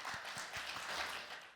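Audience applause welcomes a keynote speaker to the stage at the Korea-Eureka Innovation Forum, a steady wash of many hands clapping at moderate volume for a short stretch, without talk over it.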